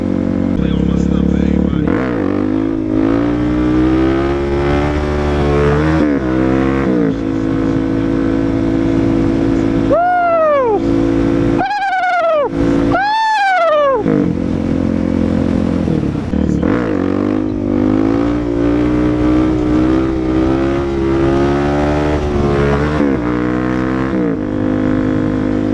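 Suzuki DRZ dual-sport motorcycle engine revving hard through a wheelie, rising and falling in several sharp surges with one steep climb near the middle, loud and close throughout.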